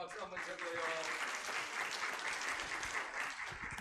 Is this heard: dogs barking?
no